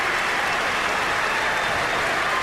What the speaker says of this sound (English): the crowd gives the Celtics an ovation